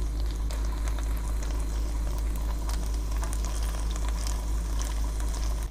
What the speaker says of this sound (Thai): ทอดจนกว่าเขาจะเหลืองทุกด้านนะคะ